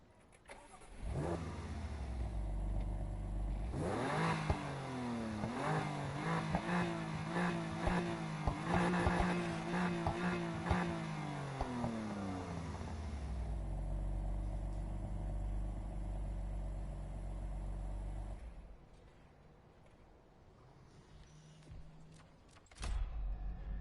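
A BMW M2 in the racing game Need for Speed Heat starts up and revs through a sequence of rising and falling engine pulls, then settles to a lower idle with a final blip.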